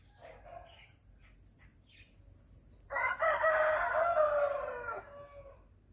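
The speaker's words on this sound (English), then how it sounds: "chickens and roosters are competing from neighbourhoods" Soft distant noises in rural Thailand, then a rooster crows loudly and close, a long drawn-out call lasting about two seconds against a quiet background.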